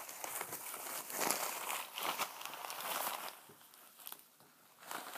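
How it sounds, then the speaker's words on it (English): Plastic packaging around Chinese art supplies such as a large orchid bamboo brush crinkles and rustles continuously at close range, with irregular bursts of crackling and no talking. "sorry for the noise of the plastic."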